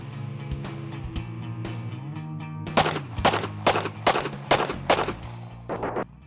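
Gunfire at range targets rings out in a quick series of sharp, loud shots, about seven in a few seconds, over a steady droning hum.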